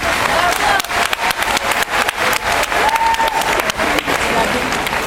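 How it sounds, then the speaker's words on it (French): Loud, sustained applause from an audience at a Super Mamie Guadeloupe 2013 presentation evening, filling the whole stretch with dense clapping and crowd noise, a few voices and calls rising through it. "je vous demande de l'applaudir bien fort"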